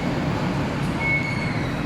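A BTS Skytrain in Bangkok rumbles with a steady low mechanical drone and a thin, sustained high wheel squeal, heard close from on board.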